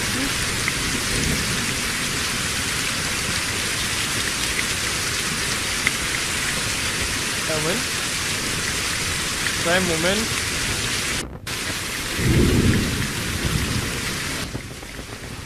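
Steady heavy rain pours through a thunderstorm in the medieval survival game Reign of Kings, with a deep rumble of thunder swelling near the end and a brief voice speaking over the downpour.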